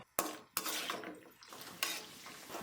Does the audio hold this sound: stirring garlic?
yes